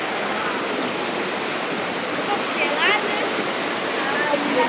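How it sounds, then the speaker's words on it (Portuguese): Ice-cold stream water rushes over rocks in a steady, close, broadband flow. It continues without a break, and a brief bird chirp is heard partway through. "Olha a água, gente"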